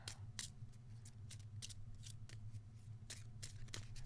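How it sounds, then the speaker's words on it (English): Mythos cards for a Cthulhu: Death May Die board game are shuffled, giving a string of quick, crisp papery riffles and snaps that repeat in short bursts, faint and close by. "let's go ahead and shuffle"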